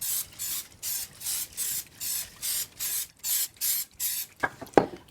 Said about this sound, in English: I'm just gonna spray it down with a little bit of coconut oil so nothing sticks